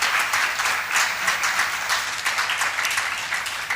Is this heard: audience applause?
yes